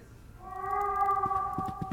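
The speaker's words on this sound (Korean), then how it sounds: "고양이 소리가 들리네 이거?" A cat in the horror adventure game The Last Door gives one long, drawn-out meow, steady and fairly close, ending in a few soft knocking thumps.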